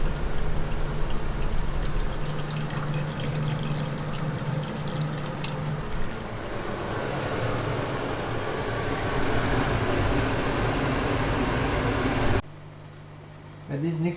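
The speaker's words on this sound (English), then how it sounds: "right now the auto siphon is actually sucking out the beer, following the pipe all the way down the fermenter" Auto siphon drawing pale ale through a tube down into a fermenter, a continuous close gurgling flow with a low hum underneath that cuts off abruptly near the end.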